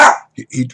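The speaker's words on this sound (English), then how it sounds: "That's my dog." A dog gives a brief close bark followed by two short softer yips or grunts, all within under a second, loud at the start and trailing off.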